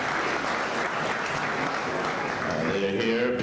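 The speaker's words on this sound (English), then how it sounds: "Give them a big round of applause" An audience at a city council meeting claps for visiting elementary school students, a steady wash of applause with a voice beginning to speak over it near the end.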